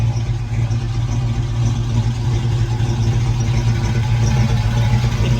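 A 1969 Camaro Z28 with a genuine DZ302 V8 idles loud and steady, a deep continuous rumble heard up close from the rear of the car with no speech.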